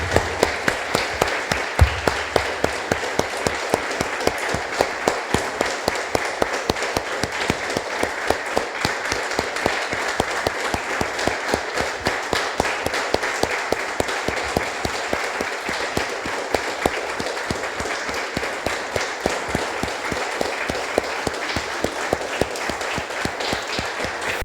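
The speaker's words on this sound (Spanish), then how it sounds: "Vamos a un aplauso, hermanos del Señor." A church congregation applauds during a service in long, rhythmic, steady clapping that keeps an even beat for more than twenty seconds, moderately loud and with no voices over it.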